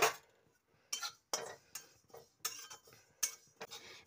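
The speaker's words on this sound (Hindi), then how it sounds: "तो हमने यहाँ पे दो चम्मच तिल ले लिया है इसे हम रोस्ट कर लेंगे" Two spoonfuls of sesame seeds roast in a kadhai while a spoon stirs them, making a series of faint, sharp metallic scrapes and clinks at irregular intervals against a quiet background.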